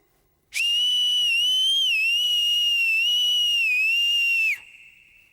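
A person whistles one long, loud, steady note with a slight wavering pitch for about four seconds, then it cuts off to a fainter tone.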